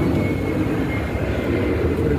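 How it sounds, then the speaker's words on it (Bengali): An airplane passes overhead, a steady broad roar at moderate distance filling the short stretch without any talking. "বিমান যাচ্ছে দেখেন,"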